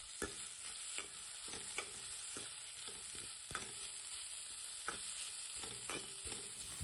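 Onions fry in a pan with a soft, continuous sizzle while a spoon stirs and scrapes in irregular taps throughout.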